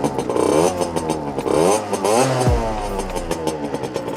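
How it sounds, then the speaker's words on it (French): A premix-fuelled motorcycle engine with a modified exhaust and its oil pump removed revs in repeated sharp bursts, loud and close. A raspy, popping exhaust sounds between throttle blips, with a brief idle dip. "On va laisser la moto du coup chauffer un petit peu"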